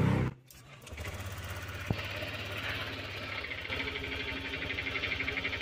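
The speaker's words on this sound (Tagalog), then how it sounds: "Paganahin po natin yung engine." Motorcycle engine idling after a tensioner refresh, starting with a brief cut-out and then a steady, close, moderately loud mechanical running hum with a fast even pulse.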